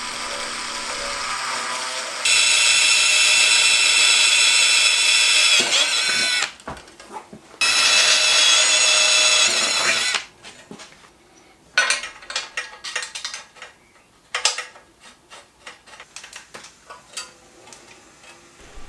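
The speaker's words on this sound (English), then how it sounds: "By mounting the adapter backwards, I get a better angle to drill and I can get it lined up easily." A power drill bores a hole in a bicycle dropout adapter: two loud sustained high whining bursts, followed by scattered clicks, taps and rattles of metal parts being handled.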